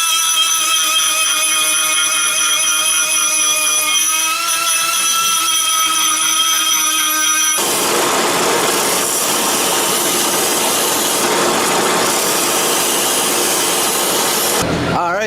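A power tool deburrs steel pipe before welding: first a loud, steady whine, then a harsh, continuous grinding roar close by.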